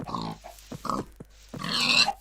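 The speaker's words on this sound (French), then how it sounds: "Les cochons, on en profite." Pigs on a farm in a video game, a few short separate grunts and snorts close by, ending in a longer louder squealing grunt, heard alone.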